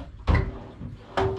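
The doors of a tool chest are opened and shut twice. Each gives a hollow knock with a brief rattle, heard close up with quiet room tone between them.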